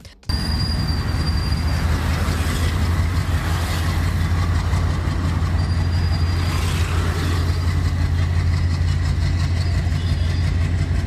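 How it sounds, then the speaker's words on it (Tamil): A twelve-car freight train on a test run along the extended elevated rail line between Velachery and St. Thomas Mount in Chennai, with a loud steady rumble of wheels on track and two brief high squeals. "சென்னை வேளச்சேரி பரங்கிமலை இடையே 730 கோடி ரூபாய் மதிப்பீட்டில் நீட்டிக்கப்பட்ட பறக்கும் ரயில் வழித்தடத்தில் சரக்கு ரயிலை இயக்கி சோதனை மேற்கொள்ளப்பட்டது."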